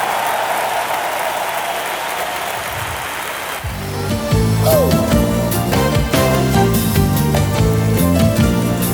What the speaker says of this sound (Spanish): Dele un aplauso al Señor, por favor, Jaime.